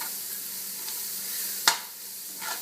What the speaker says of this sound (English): I'm just going to let this saute just for a couple of minutes until the garlic starts to soften, as well as the onion